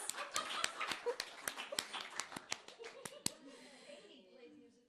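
Scattered, sharp handclaps from a small group in a livestreamed music session, a dozen or so distinct claps in an irregular rhythm, fairly close and quiet, fading out toward the end.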